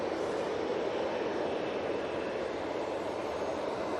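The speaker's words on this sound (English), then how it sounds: "Brussels Airlines A319 going back to Brussels" A Brussels Airlines Airbus A319 airliner departing Manchester Airport gives a steady, loud broadband jet roar that holds evenly throughout, with no voices.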